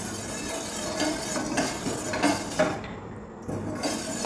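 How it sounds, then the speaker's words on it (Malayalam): A spoon stirs rice batter in a pan over low heat, making repeated close scraping strokes and light clinks against the metal with a faint hiss beneath. "കട്ട പിടിക്കാതെ ഇളക്കി കൊടുക്കണം"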